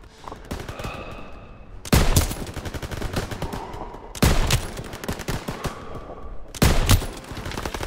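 Machine gun fire in the Call of Duty WW2 campaign, loud rapid bursts crackling continuously, with three heavier volleys standing out at regular intervals amid the battle din.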